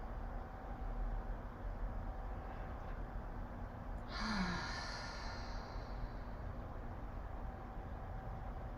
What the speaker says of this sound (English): One more full breath in and out.